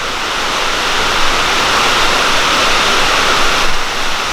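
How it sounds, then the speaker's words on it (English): Steady, loud rain drumming on a metal building roof, a dense unbroken hiss with no pauses and no voices. "I'm sorry beforehand, you're gonna start hearing rain."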